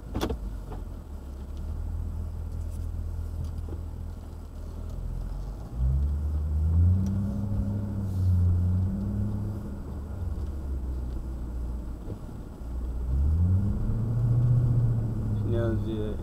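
Cabin noise inside a Hyundai Genesis R-Spec sedan fitted with Borla Pro XS mufflers: a low, steady exhaust drone at idle swells into a few brief revs, muffled by the interior, while a person talks over it.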